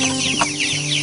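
Backyard chickens cluck at feeding time, a steady hum of soft clucks and murmurs with one brief louder call, no talking.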